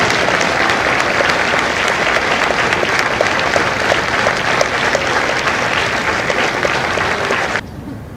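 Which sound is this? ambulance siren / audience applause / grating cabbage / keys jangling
audience applause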